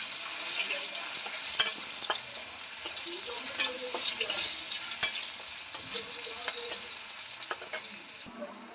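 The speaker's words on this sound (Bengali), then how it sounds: "এবার উচ্ছেটা ভেজে নেব" Bitter gourd fries in a pan with a steady sizzling hiss and occasional stirring scrapes, close and continuous, with no talking.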